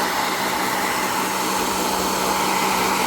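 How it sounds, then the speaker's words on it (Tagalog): A blow dryer runs steadily at close range, drying a dog's fur, with a constant, loud broadband whoosh of air and motor hum throughout and no voices. "Malayo naman po yung ating blow dry para hindi siya mapasok."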